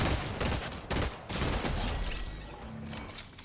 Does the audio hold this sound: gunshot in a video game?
yes